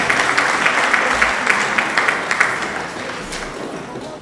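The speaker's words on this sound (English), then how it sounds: "Please give him a round of applause." A crowd at a movie release party applauds a guest being introduced. Dense clapping starts strong with sharp individual claps standing out, then gradually fades over a few seconds.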